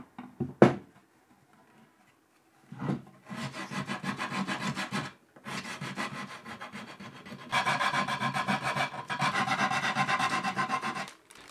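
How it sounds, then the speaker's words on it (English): Repeated rasping strokes of sanding on wood, close and steady, in several bursts separated by short pauses, with a brief knock near the start. "It just needs a bit of sanding and it's done."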